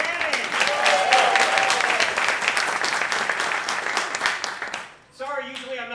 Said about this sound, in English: Can we give another round of applause for Emily McIntyre?